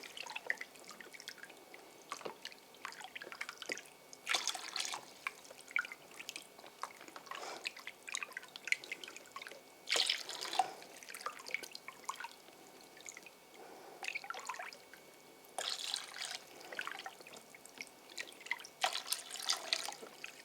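Water is poured and added by hand during a treatment to prevent viral disease. It comes as faint, intermittent trickles and drips in separate bursts over a quiet background.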